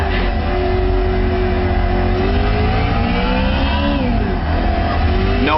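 A BMW M3 E92 in Gran Turismo 5 Prologue accelerates hard in third gear, its engine note climbing steadily and loudly, then dipping briefly at a shift before rising again.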